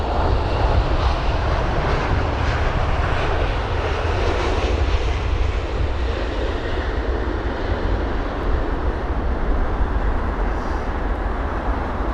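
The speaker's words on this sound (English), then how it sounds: "They're all on approach, with the Emirates A380 turning in and a couple of other jets following on behind." Jet airliners, including an Emirates A380, on approach to Heathrow's runway 27 right on a windy day make a constant loud engine roar with broad rushing noise that persists without a break.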